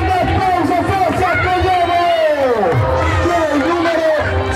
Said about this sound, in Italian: Un grande applauso, forza